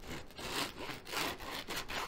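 A knife saws through a crusty loaf of homemade Italian bread, giving a steady rasping crunch in repeated strokes, close and fairly loud with no talk over it.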